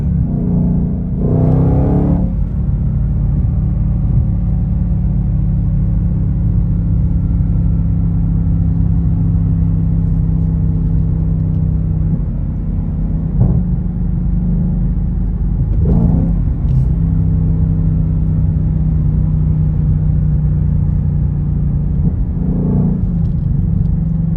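Ford Mustang Shelby GT500 engine braking downhill in second gear, a steady loud low rumble held throughout with a few brief throttle blips rising and falling, no talking.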